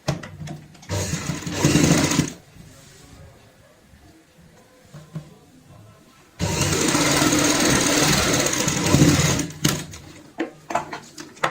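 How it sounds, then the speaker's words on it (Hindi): A sewing machine stitches shut the gap in a fabric purse, running in two loud bursts of about a second and three seconds, separated by quiet handling noise and a few short clicks. "इसको हम बंद करने के लिए यहाँ पे इस तरीके से पकड़ेंगे और ऐसे रखेंगे, यहाँ पे सिलाई लगा लेंगे।"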